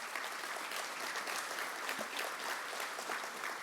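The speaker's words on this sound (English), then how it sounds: "Give them a round of applause, if you will." Audience at a scholar-athlete luncheon giving a round of applause, a dense, even wash of clapping from many hands in a room, sustained without a break.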